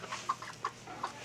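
Five-month-old Carioca and white chickens cluck softly, four short clucks spaced across a little over a second, close by over a quiet background.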